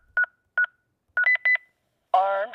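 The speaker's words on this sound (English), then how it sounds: "Press the Armed Away icon and enter your user code." Keypad tones from a Lynx Touch alarm panel as a user code is entered: four short, clean beeps with uneven gaps, followed by a longer, richer confirmation tone.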